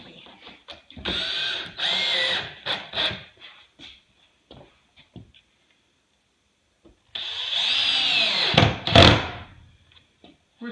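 Power driver sinking screws into a subfloor sheet, two bursts of whirring about five seconds apart with scattered clicks and knocks between them and a quiet gap in the middle.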